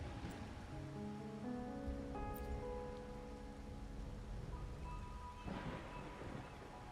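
Rain and thunder in the Wuthering Waves video game: steady soft rainfall with a low rumble of thunder, faint and continuous, with a light swell of noise near the end.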